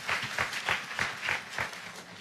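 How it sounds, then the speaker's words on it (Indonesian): Applause for mothers fills a gathering, a steady rhythmic clapping close by and moderately loud, with no talking over it. "Kita kasih tepuk tangan dulu yang meriah buat ibu"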